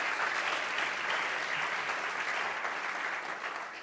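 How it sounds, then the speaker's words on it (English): Sustained audience applause at a conference on young African entrepreneurship, a dense steady wash of many hands clapping that holds loud throughout and eases slightly at the end, with no voices over it. "They deserve a round of applause"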